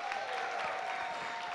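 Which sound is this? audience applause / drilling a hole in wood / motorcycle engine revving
audience applause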